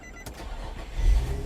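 An Infiniti G35 engine cranks and fires up after a camshaft position sensor replacement, a short starter whir building into a loud, close low rumble as it catches.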